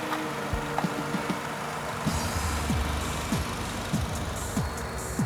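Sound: Honda Accord 2.0 petrol engine revving

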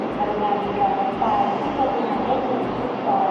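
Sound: train arriving

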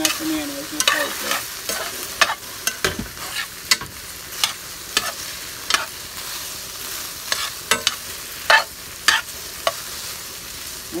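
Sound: stirring okra frying in a pot

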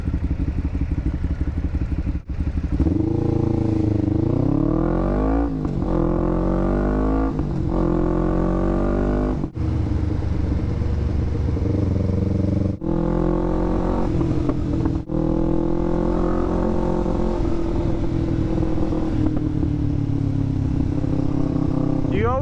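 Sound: loud Kawasaki Ninja 500r motorcycle riding, lane splitting

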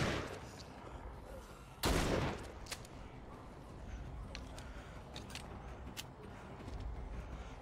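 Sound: shotgun fire in the video game Walking Dead Saints & Sinners

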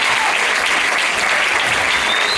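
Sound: audience applause at a pole championship

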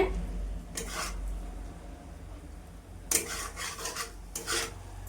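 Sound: stirring prawns and greens in a pan

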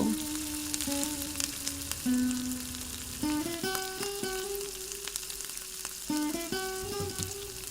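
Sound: spice paste frying in oil with nigella seeds

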